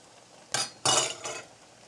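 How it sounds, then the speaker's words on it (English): A spoon stirring peas in a pot, giving three short scraping, clinking strokes close by, the middle one longest and loudest. "I am ready to stir the peas"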